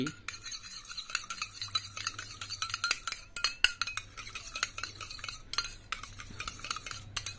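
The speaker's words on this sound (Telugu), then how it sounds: "మూడు తులాల ఉల్లిపాయ రసము అర తులము తేనె ఈ రెండింటిని కలిపి" A spoon stirs onion juice and honey together in a cup, making continuous scraping and clinking against the sides, close and steady, with no voices.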